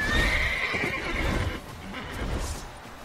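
A frightened horse in The Witcher 3 neighs in a loud, shrill whinny over the first half, then settles into snorting and hoof clatter against a busy game soundscape.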